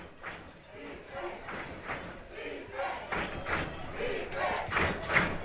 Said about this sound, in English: I'll tell you what, this crowd's charged up tonight, aren't they?